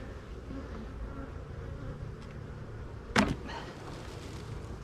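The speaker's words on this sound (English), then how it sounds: "the bees are looking surprisingly well" Honey bees buzz steadily around a beehive, a continuous low hum close by with a brief louder burst as one passes near.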